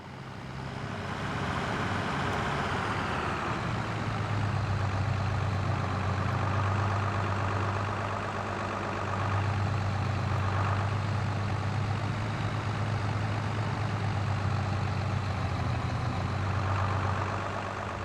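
A tractor engine in a farm simulator game drones low and steady, swelling louder and easing off a few times as it works, heard close with no voices.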